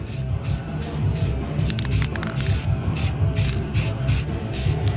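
A black coat of spray paint goes onto car parts in repeated short hissing bursts, roughly evenly spaced, close and fairly loud over a steady low hum.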